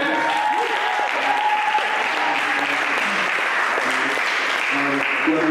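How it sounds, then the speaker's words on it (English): Steady applause from a crowd fills the room, a dense, continuous patter of clapping with a few voices faintly underneath. "can we give a clap for Moses as well?"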